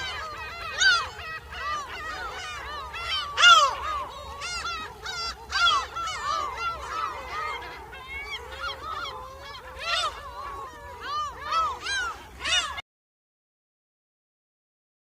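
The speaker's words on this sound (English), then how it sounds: "P for parrot." A parrot calls over and over in a steady stream of shrill, squawking cries that rise and fall for about thirteen seconds, fairly loud and close, before stopping abruptly.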